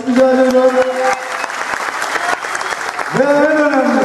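Audience applause for youth center leaders at a theatre ceremony, a full, continuous patter of clapping from a crowd, with a voice speaking over it at the start and again near the end.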